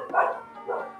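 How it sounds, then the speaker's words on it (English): A dog gives two short barks about half a second apart, fairly faint and somewhat distant, with quiet between them and no talking. "Every day the dog's walking by and is barking with the old lady."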